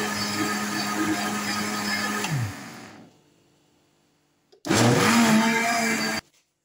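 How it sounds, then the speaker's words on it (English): Electric blender whirs loudly through smoothie ingredients, running steadily for over two seconds before winding down and stopping, then after a pause starting again for a second loud burst that cuts off abruptly. "So I'm going to get them blended so the noise will be much."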